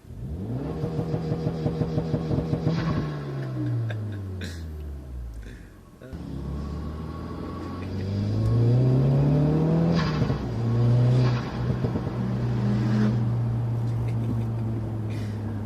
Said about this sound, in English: Mr. Evo is revving at us